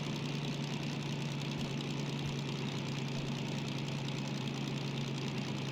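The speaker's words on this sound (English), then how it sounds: "RPMs are dropping dramatically" DM3 diesel locomotive engine in the train game Derail Valley, hauling 400 tonnes, running with a steady droning hum and knocking chug at a fairly even pitch, close and continuous.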